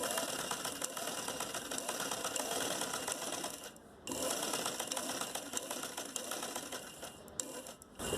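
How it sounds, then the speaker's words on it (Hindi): A sewing machine stitches a fabric face mask, its needle chattering in a steady rapid run up close, pausing briefly midway before resuming. "यहाँ पे हम दोबारा से सिलाई लगाएंगे"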